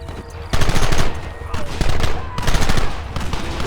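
Gunfire in the Western video game Red Dead Redemption: dense, loud bursts of rifle and pistol shots crackling almost continuously, with a brief lull near the start before the shooting swells.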